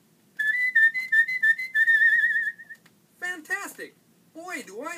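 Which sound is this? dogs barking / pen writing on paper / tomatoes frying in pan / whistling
whistling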